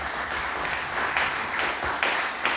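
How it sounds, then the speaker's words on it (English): Applause from an audience at an MLK celebration day held by a Cape Verdean association, a steady wash of many hands clapping, moderately loud and even across the clip. "Round of applause for you guys."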